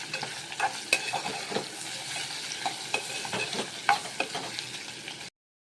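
Sliced potato chips curry cooking with turmeric in a pan, stirred with a spoon: close, irregular scraping and clattering strokes over a steady frying sizzle, ending abruptly.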